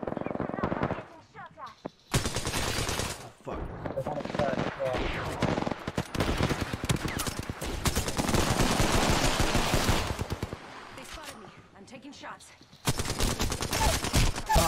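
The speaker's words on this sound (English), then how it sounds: "guy's shooting a zombie already" Rapid bursts of video-game gunfire from shooting zombies in Dead Space 3, dense and loud through most of the stretch with short lulls, mixed with game sounds and occasional talk.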